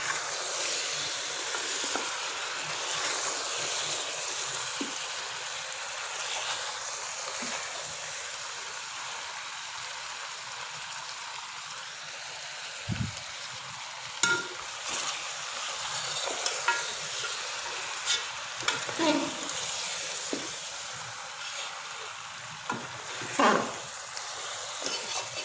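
Chicken gravy for a quick chicken korma fries in a pan, a soft, even sizzling hiss that runs steadily, joined later by occasional scraping stirs and light knocks, close but fairly quiet.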